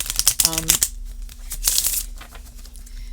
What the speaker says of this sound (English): I am going to spend a little bit of time really shuffling and randomizing this deck